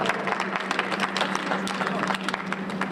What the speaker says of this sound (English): Y'all give my son a big round of applause.